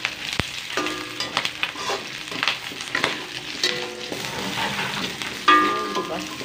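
Food fries in a pan with a close, steady sizzle broken by utensil clinks and scraping stirs, plus a sharp knock near the start and brief tonal rings from metal contact.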